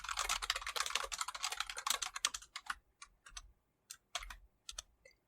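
Quick typing on a computer keyboard, a dense run of close key clicks that thins into separate short bursts and single taps, with no voices.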